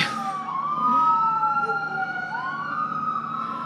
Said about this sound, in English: Let's wait till this ambulance goes by.